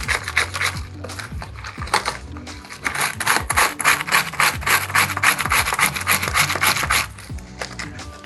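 A mountain bike chain is scrubbed with a brush inside a plastic Tupperware container, making close, brisk, repetitive scratchy rubbing strokes with small knocks of plastic and metal.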